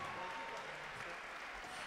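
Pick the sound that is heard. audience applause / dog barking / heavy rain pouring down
audience applause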